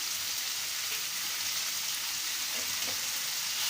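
Dried fenugreek leaves (kasuri methi) roasting in a pan while making chole, giving a steady, even sizzle and crackle that runs throughout with no one speaking.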